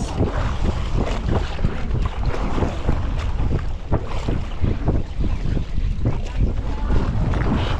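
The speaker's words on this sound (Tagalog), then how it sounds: "Lakas kasi ng hangin guys." Strong wind buffets the microphone in a steady, loud roar with gusty low rumbles at a seaside fishing spot in Calatagan, Batangas, water sloshing faintly underneath; no one speaks.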